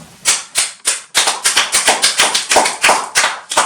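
A church congregation claps in a brisk, steady rhythm, sharp loud claps repeating roughly every quarter second, close and without talk.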